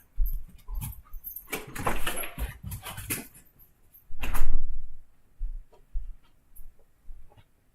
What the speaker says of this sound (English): Of course, Finn's going to start whining.